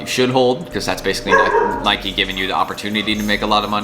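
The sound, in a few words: dogs barking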